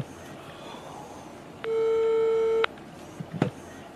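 A telephone line gives a busy tone as a call fails to connect: one clear, steady electronic beep of about a second over faint room noise.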